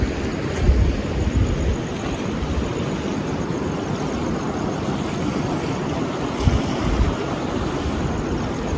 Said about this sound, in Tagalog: Malakas yung agos ng sapa nila.